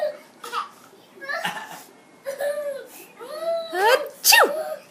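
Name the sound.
child imitating a sneeze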